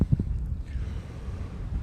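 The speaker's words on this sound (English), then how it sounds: "It's super windy this morning" Low, constant roar of strong morning wind buffeting the microphone on a mountain hike in Donegal, a steady rumbling gust with no voices.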